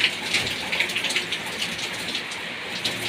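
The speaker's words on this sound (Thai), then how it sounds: "ตอนนี้ก็เป็นเวลาฝนตกนะครับแม่แม่" Rain pours onto a car in a dense, even hiss of drops drumming on the surface, close and steady throughout with no speech.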